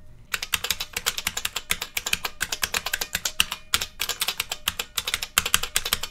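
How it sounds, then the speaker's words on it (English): Rapid, even typing on a new Model F buckling spring keyboard with freshly adjusted springs, each keystroke a sharp, loud, close clack in a dense steady rhythm with a few short pauses. "here is a typing test after adjusting all the springs"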